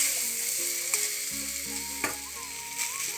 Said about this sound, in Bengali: এরপর দিয়ে দিচ্ছি আমি কেটে রাখা টমেটো দিয়ে আবারও ভালোভাবে নাড়াচাড়া করে নিচ্ছি